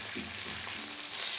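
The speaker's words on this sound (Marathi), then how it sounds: "आपल्याला परतायचं आहे चांगलं।" An onion, tomato, garlic and ginger masala fries in a pan with a steady close sizzle and faint stirring, heard alone for a brief moment.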